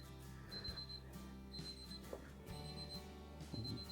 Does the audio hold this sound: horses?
no